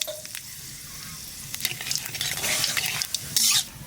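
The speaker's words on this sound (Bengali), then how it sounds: "তেলের পর দিয়ে দেবো জিরে আর তেজপাতা" Cumin seeds, bay leaf and a pinch of asafoetida sizzle in hot oil. The hiss swells to a brighter, louder spatter near the end, and a utensil clinks now and then, with no talk.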